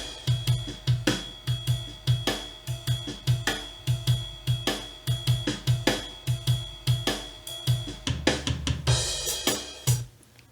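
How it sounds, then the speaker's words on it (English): A drum machine plays a steady shuffling blues beat, with punchy kicks and crisp snare and hi-hat hits repeating evenly. "some other kind of a drum machine and just go to a simple blues beat"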